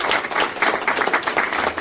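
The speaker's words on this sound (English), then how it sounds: "Thank you for the applause." A crowd applauds in a dense, steady wash of clapping that holds at a loud level from start to finish, heard alone without talk.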